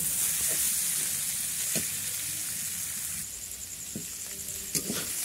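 Cabbage and carrot being fried and stirred in a pan for veg chowmein, a steady close sizzle with a few scraping knocks of a spatula.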